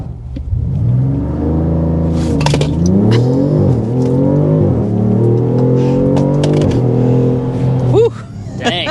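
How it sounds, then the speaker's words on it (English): A 2026 Dodge Charger Sixpack, a 550 HP muscle car, accelerates hard in sport mode with its active exhaust valves open. Loud, close engine roar rises through several aggressive gear shifts with brief dips between pulls, and voices are heard over it. "I certainly like the real exhaust noise that you get here on this model"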